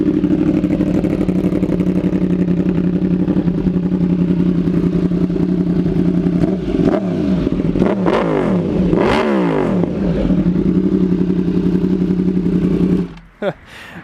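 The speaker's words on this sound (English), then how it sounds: "It's that aero exhaust." A 2016 Yamaha R1 with a full titanium Arrow exhaust rumbles close by, then revs several times in sharp rising and falling bursts before cutting off abruptly near the end.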